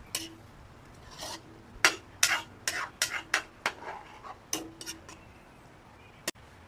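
Scraping and clinking of a utensil stirring food in a cooking pot after water is added, a series of sharp, close scrapes in an irregular rhythm with brief pauses, alone without talk.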